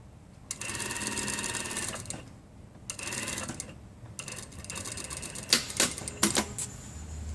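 A sewing machine stitches through four layers of collar fabric on a shawl collar, running in several short whirring bursts separated by pauses, with quick final runs of stitching close by.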